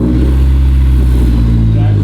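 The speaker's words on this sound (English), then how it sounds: "let's fire it up and see what the Jays Racing Titanium 70RR sounds like" A Honda S2000 engine fitted with a Jays Racing Titanium 70RR exhaust idles with a loud, steady, deep rumble, close up and continuous.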